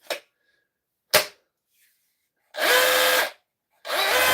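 A hammer drill set to hammer mode, on the repair bench, runs in two sustained bursts of about a second each after two short sharp clicks, loud and close, with no talking.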